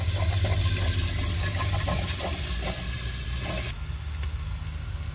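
Ají especial paste sizzles and fries in a pan as the base for a pumpkin stew, a loud bubbling hiss with faint stirring that drops in intensity near the end.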